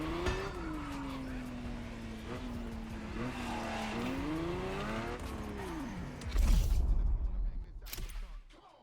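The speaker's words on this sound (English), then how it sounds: "The car you're about to drive in this opening event is none other than the first Ferrari in the supercar bloodline, the Ferrari GTO." Ferrari GTO supercar driven in The Crew Motorfest racing game, its engine note rising and falling through gear changes, then a loud burst of tire noise and rushing sound near the end.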